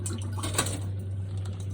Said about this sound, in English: I can empty this water into the sink.